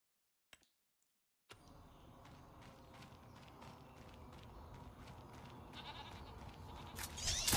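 Goats on a farm in a farming video game bleat over steady ambient noise and soft repeated footstep-like taps, after a brief silent start, growing louder toward the end.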